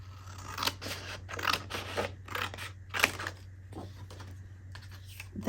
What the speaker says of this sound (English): I'm going to cut her out, and I'm going to cut more of the photo out than